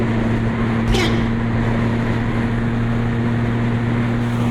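A Yamaha MT-09 motorcycle engine drones loud and steady while riding, a constant hum with rushing wind noise and one brief sharp burst near the start.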